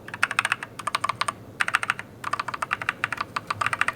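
Typing on a Dierya DK61E 60% wired mechanical gaming keyboard with red switches, rapid close clacking keystrokes in three quick bursts separated by short pauses, with no talking.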